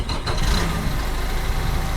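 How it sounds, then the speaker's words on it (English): A truck engine idles steadily and loudly up close, a continuous low rumble after starting, with no voices over it. "I'm going to start the engine."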